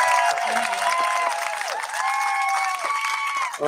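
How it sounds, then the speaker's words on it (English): A crowd at a livestock goat show applauds steadily for the primary-age exhibitors, with continuous clapping mixed with a few cheers and murmured voices. "let's give a round of applause for our primaries"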